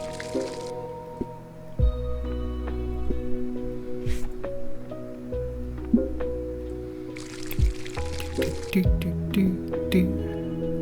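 In a plant-growing video game, watering produces repeated soft drips and squishy liquid splashes over a steady tonal music bed, each splash short and distinct, with scattered clicks between them.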